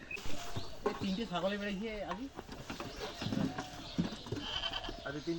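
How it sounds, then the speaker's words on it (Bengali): A white goat bleats loudly several times in wavering, drawn-out cries, close by, with people talking around it. "এই সাদা ছাগলটা কিন্তু খুবই চিল্লাচিল্লি করতেছে"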